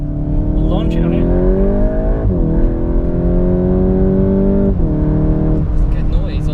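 A Mk8 Golf GTI Clubsport 45 engine revs up loudly, its pitch climbing, then dropping sharply at each gear change, two upshifts followed by more acceleration.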